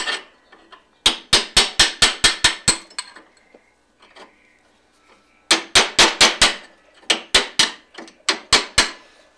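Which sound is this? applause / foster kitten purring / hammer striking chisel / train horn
hammer striking chisel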